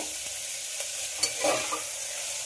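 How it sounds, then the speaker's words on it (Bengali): Chopped onions and garlic sizzling in a hot pan with a little salt, a steady frying hiss broken by brief clicks and stirring scrapes, no talking. "পেঁয়াজটা একটু লাল লাল করে ভেজে নেব।"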